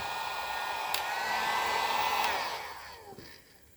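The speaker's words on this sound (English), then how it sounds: "So you take your heat gun." Cheap Harbor Freight heat gun blowing on its low setting while warming a wooden musket stock, a steady airy whir with a motor whine that fades away as it is switched off near the end.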